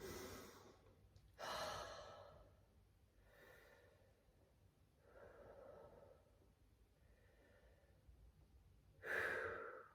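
Slow deep breaths during a yoga session, several long inhales and exhales with a couple of sharper, louder breaths, close and quiet with no talk.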